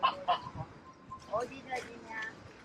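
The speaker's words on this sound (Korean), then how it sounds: "거위들이 있어요." Geese at Seokchon Lake give several short, nasal honks in uneven bursts close by, mixed in with a person talking.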